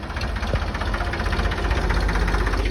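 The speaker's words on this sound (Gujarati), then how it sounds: "તો જો આપણે ટ્રેક્ટર ભરાઈને આવે છે," Loaded tractor engine running steadily near a village, a continuous low rumbling idle with a faint knocking pulse that holds even for almost three seconds with no speech.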